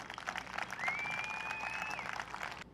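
An audience applauds steadily as a dense wash of claps at an event launching a brand, with a whistle or sustained tone riding over the clapping for about a second.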